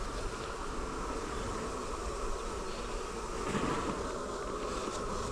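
Honey bees buzz steadily and close by while a nucleus colony is moved into a hive, a dense continuous drone with no talk over it.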